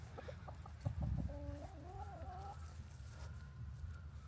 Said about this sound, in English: We have roaming chickens.